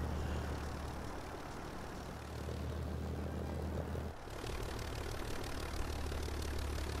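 A propeller aircraft engine in the War Thunder flight game drones steadily throughout, a dense, constant roar with a brief dip in the low rumble partway through and no voices.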